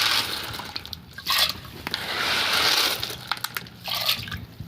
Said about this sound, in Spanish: Ahora ya le voy a vaciar los frijoles.